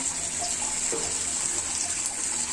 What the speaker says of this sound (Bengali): যে মাংসের পানিটা দিয়ে দিলাম